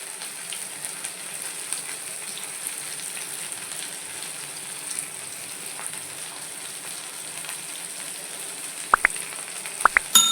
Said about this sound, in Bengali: পেঁয়াজ আলুটা ভাজা ভাজা হচ্ছে